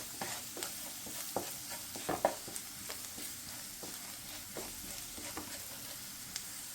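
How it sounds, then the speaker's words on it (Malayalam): Masala with turmeric powder frying in a pan for chicken curry, a soft steady sizzle broken by repeated spoon scrapes and taps against the pan, fairly faint and with no talking. "നന്നായിട്ട് ഇളക്കുക. പച്ചമണം മാറുന്നതിന് വരെ നമ്മൾ ഇളക്കണം."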